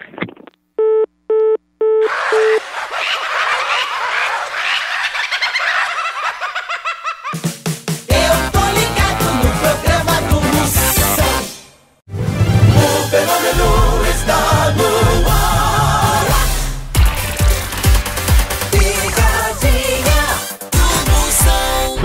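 Telephone call tones ring out as a number is dialed, starting with short repeated beeps, then giving way to loud, dense music-like sound and laughter that fill the rest.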